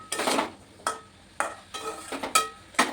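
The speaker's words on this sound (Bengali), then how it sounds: "এখন আমি খুব ভালো করে নেড়ে চেড়ে এটাকে কষিয়ে নেব" A spatula scrapes and clatters against a pan while fresh garden vegetables are stirred with spices, in about six brisk, evenly spaced strokes, close and clear, with no talking.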